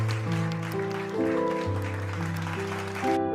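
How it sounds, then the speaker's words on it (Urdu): Applause from an audience in a cartoon, steady clapping sustained over background music throughout. "سب نے تالیاں بجانا شروع کر دی"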